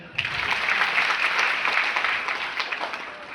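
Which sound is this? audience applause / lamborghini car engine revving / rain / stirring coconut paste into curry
audience applause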